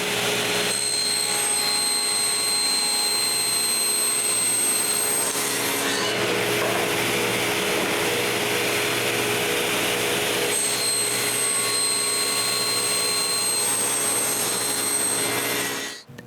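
A power saw cuts grooves in wood for serving trays with a steady, continuous whine and rasp, with a brief change partway through before the cut resumes, loud and close.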